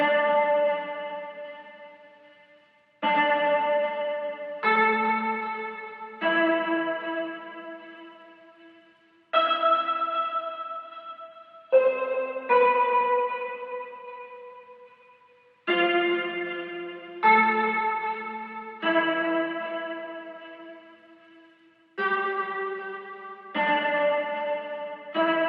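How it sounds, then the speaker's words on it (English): A Mellotron preset plays a slow melody of sustained, chord-like notes for a lofi beat, each phrase swelling in and fading away under a wash of echo and chorus. "I play this melody using this preset from Mellotron."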